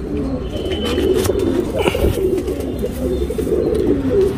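Tournament racing pigeon cooing close by, a steady low throaty murmur running through the whole stretch with a faint flap or rustle midway.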